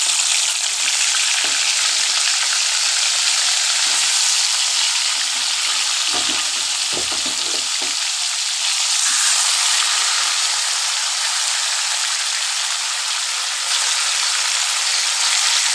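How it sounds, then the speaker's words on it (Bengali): Catla fish pieces fry in hot oil in a pan, giving a loud, steady, continuous sizzle with occasional faint clinks of utensils. "এইভাবে আমি সব মাছগুলো ভেজে নেবো"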